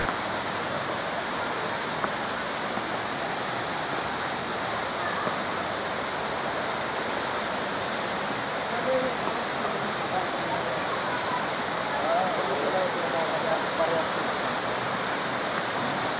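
Balite Falls, a waterfall in the Philippines, gives off a broad, constant rush of water, steady and enveloping from start to finish, with faint voices now and then beneath the roar.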